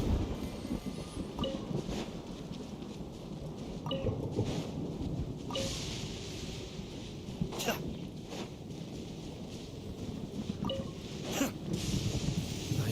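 Thunder rumbling in Genshin Impact, a low continuous roll beneath scattered crackling and sharp ticks, moderately loud and steady, with a stormy, rain-like wash running throughout.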